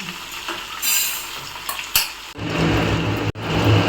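Chicken frying in hot oil, sizzling and crackling, with utensils stirring and scraping against a pan in bursts.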